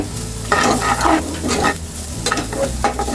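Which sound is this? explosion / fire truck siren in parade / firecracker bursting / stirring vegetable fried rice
stirring vegetable fried rice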